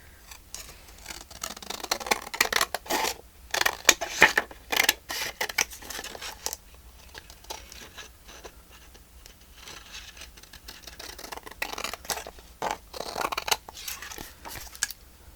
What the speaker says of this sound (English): Cut that straight across.